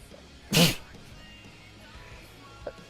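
A single sharp, loud sneeze bursts out close to the mic against a quiet background, followed by a faint small sound shortly after.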